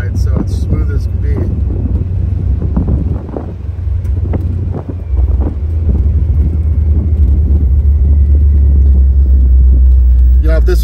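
A 1967 Cadillac Deville convertible on air ride suspension drives along, its steady low engine and road rumble mixed with wind buffeting throughout, with speech over it.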